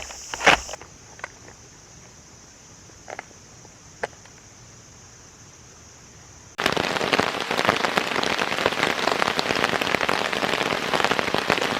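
Thunderstorm rain strikes a camping tarp over a hammock. A few faint scattered drops and taps come first, then a loud, dense, steady downpour pours in abruptly about halfway through.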